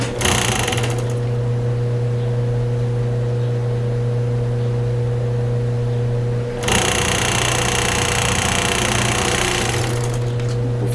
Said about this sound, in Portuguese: vou passar uma costura overlock ou reta aqui, só nessa reta, na parte superior